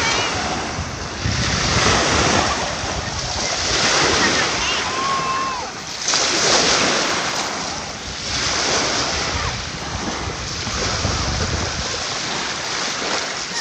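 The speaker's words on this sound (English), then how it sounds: "Waves." Ocean surf at a small Louisiana state park beach rolls in steady washing swells, loud and close, with heavy wind buffeting the microphone and faint voices in the background.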